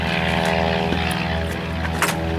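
A propeller tow plane hauls a glider aloft at a fly-in, its engine droning steadily and loudly throughout with a constant harmonic hum, no voices over it.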